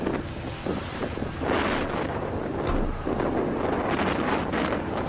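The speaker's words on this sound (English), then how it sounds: "Look at that gust." Strong wind gusts at an airport roar steadily against an outdoor microphone, with rumbling buffeting surges throughout and no voices.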